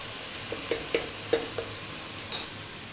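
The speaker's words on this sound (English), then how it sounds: "Let's get that little bit of pasta in." Dry pasta tips into a pot of vegetable soup, then a spoon taps and stirs in several short, soft knocks, ending with one sharper clink, close over a steady background hiss.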